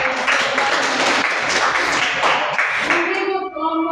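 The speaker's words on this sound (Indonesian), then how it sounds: "tepuk tangan untuk kelompok mereka" Students in a classroom clap for a peer group, a lively burst of mixed hand clapping with some voices, fading out at the end as a tone or chatter emerges.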